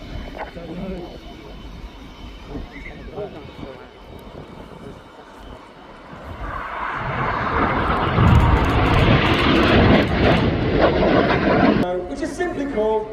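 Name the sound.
Red Arrows jet aircraft flying display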